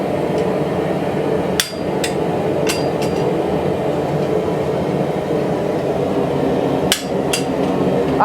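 A farrier punches nail holes big enough for Shire horse shoes, giving a few sharp metallic hammer strikes spaced irregularly over a steady workshop background hum, with no talking.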